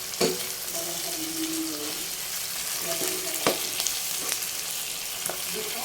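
Steady, crackling sizzle of chicken pieces frying in a pot for tinola, with a few sharper pops and stirring clatters rising over the constant hiss.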